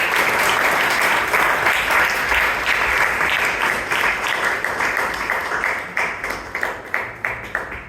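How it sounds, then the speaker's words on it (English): Dense applause from an audience at a Bangalore Toastmasters club meeting, loud and steady at first, then thinning into a few separate claps that fade out toward the end. "Big round of applause for Toastmaster Anand"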